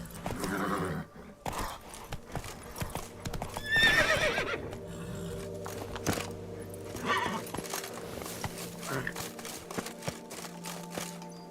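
A horse in The Witcher 3 neighs loudly near the start, then gallops on with rhythmic hoofbeats that continue over soft game background sound.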